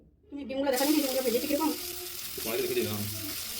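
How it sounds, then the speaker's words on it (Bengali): Chopped onions hit hot oil with a sudden loud sizzle that keeps crackling steadily, with soft kitchen clatter underneath, while frying for a Bengali egg curry. "ওর মধ্যে দিয়ে দেব কেটে রাখা পেঁয়াজগুলোকে"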